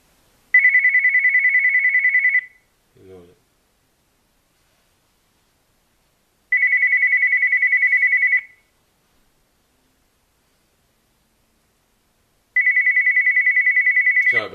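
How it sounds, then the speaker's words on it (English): A telephone ringtone sounds in three separate bursts of about two seconds each, evenly spaced with silence between them, and a faint knock falls after the first burst. "I don't know why the phone's ringing."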